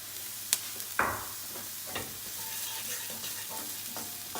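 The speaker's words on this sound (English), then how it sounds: "And now I'm going to add the garlic." Garlic hits a hot frying pan of softening vegetables and sizzles quietly, with a couple of sharp stirring scrapes early on, then a soft, steady frying crackle.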